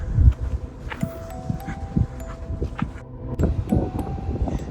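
Gusty wind buffets and flaps against a tent close by at an outdoor campsite, with irregular rustling bursts and low rumbling throughout.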